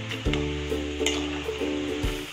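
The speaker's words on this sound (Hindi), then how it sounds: "इसको थोड़ा सा और तलेंगे एक मिनट तक" Namak pare deep-frying in a kadhai as they turn golden and crisp, a steady close sizzle of hot oil with a few stirring knocks and scrapes against the pan.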